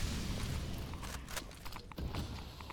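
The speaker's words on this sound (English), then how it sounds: "A nade hits for a little." A grenade explodes in a CS:GO competitive match, a dull, boomy burst set within a busy bed of game noise, with footsteps and scattered thuds around it.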